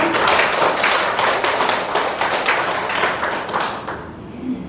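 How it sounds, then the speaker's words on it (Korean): A small audience at a Jeju essay book launch claps in thanks, brisk, close and dense at first, then thinning and fading toward the end. "정태근, 오승유 선생님께 모두 감사의 박수를 부탁드립니다"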